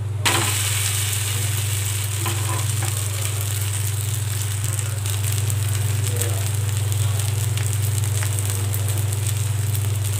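Dosa batter sizzling with oil on a hot pan, a constant crackling hiss alongside a steady low hum.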